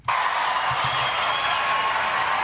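Crowd noise from a Republican presidential primary debate audience, a steady, dense wash of applause and cheering that holds loud and unbroken throughout, with faint low voices mixed beneath.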